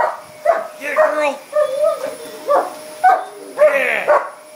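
A dog barks and yips at a running vacuum cleaner indoors, several sharp nearby barks in quick bursts over a steady motor hum, with a person's voice urging it on.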